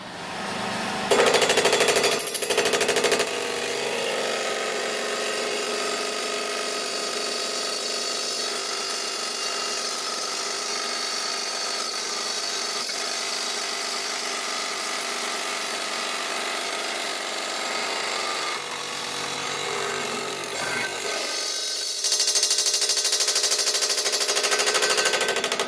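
A power saw cuts through a full 50 mm thick piece while making brackets for a DIY shop crane. The loud, steady, harsh whine starts abruptly, holds for about twenty seconds, dips briefly and then surges again near the end.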